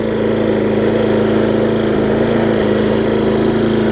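A Husqvarna self-propelled walk-behind lawn mower engine runs steadily at wide-open throttle, a loud continuous drone with an even mechanical hum throughout, close by and with no speech.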